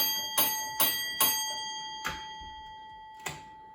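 A signal box block bell at Lugton on Scottish tokenless block working strikes five times in an uneven pattern, three quick rings then two spaced out, each clear and ringing briefly.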